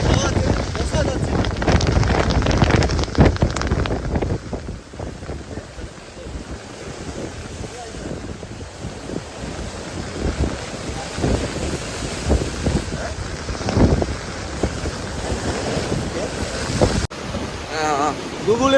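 Strong wind gusting by a river during Cyclone Remal at night, a loud, constant rushing roar with buffeting wind noise on the microphone and a water wash underneath, steady throughout.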